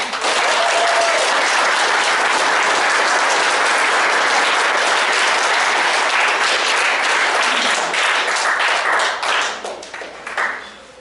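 An audience applauds scouts at a Boy Scout court of honor: loud, sustained, even clapping from a large room that tapers off into scattered claps at the end.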